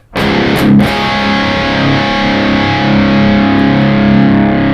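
A Schecter electric guitar played through a plain amp head with no boost or overdrive pedal, a loud sustained distorted chord that rings out steadily after a quick strum, alone and close.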